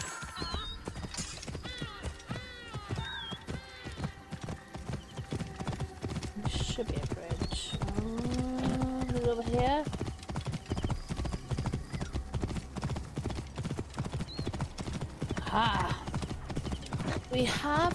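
Horse hooves clip-clop in the video game Assassin's Creed Origins, a steady rhythmic trot running throughout with a loud neigh midway, while a player talks over it.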